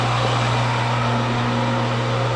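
A pump on a dairy farm filling water and pumping acid, a steady droning mechanical hum with a strong low tonal whine, loud and unchanging, with no talk.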